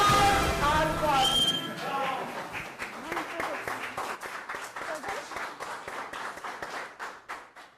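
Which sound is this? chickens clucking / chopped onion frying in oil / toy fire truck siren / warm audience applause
warm audience applause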